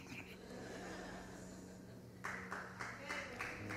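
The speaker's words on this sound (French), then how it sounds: "c'était même pas une Française qui a applaudi" A lone audience member claps during a church sermon: a short run of sharp, evenly spaced claps that sound distant and faint in a quiet room, after some low talk.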